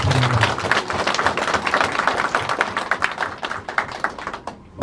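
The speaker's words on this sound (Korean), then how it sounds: "다 같이 환영의 박수 부탁드립니다" Welcoming applause fills a New Year reception hall, many hands clapping densely at first, then thinning into scattered, distinct claps before dying away.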